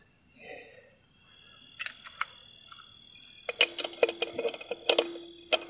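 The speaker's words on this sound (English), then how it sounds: "just a light ratchet." Light ratchet clicks tightening lug nuts on a worn go-kart, sounding as a few isolated clicks early on and then a quick, irregular burst of sharp ticks near the microphone.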